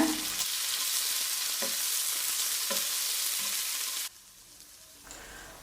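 Onions and tomatoes sizzle loudly in a pan for a goat liver fry, with occasional spatula scrapes, then the frying noise drops abruptly to a quieter simmer near the end.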